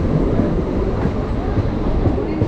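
A Mumbai local train during the Ganesh festival rolls along with a dense, continuous rumble and faint rhythmic wheel clatter, heard from inside the carriage with no clear talk.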